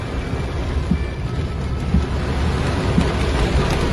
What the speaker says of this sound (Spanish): Está lloviendo mucho.